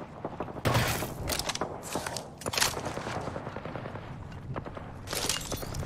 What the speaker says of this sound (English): I hear a lot of gunshots over there.